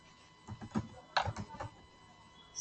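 Soft clusters of computer keyboard keystrokes tap out in short irregular bursts, quiet and close, with no speech.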